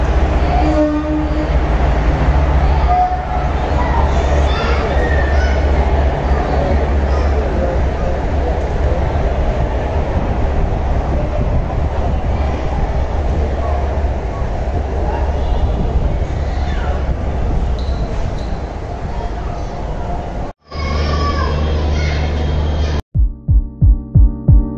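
A train at a railway station platform gives a loud, continuous rumble and roar close by that lasts most of the time, then breaks off into short, rhythmic mechanical clatter near the end.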